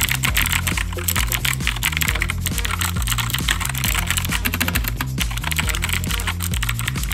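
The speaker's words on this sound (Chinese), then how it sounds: "最后再敲一下这些轴的声音给大家听听看。" Keys clack steadily and quickly on a Keychron K2 wireless 84-key RGB mechanical keyboard fitted with light switches, under continuous background music.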